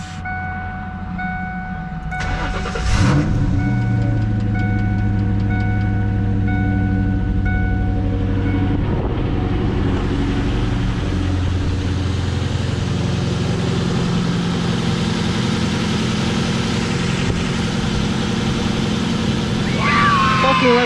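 A 1998 Ford Mustang GT with a 4.6L V8 and a newly replaced alternator cranks, fires and settles into a loud, steady idle with a continuous rumble, close by, under occasional voices.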